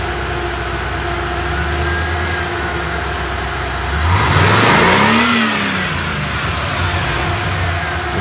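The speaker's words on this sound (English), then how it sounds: "You can go a little bit higher RPM." Engine of a 1978 Chevy G20 van idling steadily, then swelling to a loud rev at higher RPM and dropping back to a smooth idle, close and without speech.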